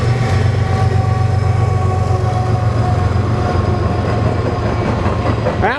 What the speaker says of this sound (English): We have a Burlington Northern Santa Fe going eastbound.